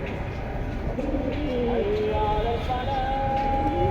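Military breed pigeons coo in steady low throaty calls up close, over a constant background rumble, with a few higher warbling bird notes rising above it.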